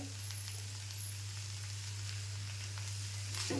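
Dried jawla shrimp sizzle steadily as they sauté in a pan, a continuous soft frying hiss with faint stirring scrapes over a low hum, no voices.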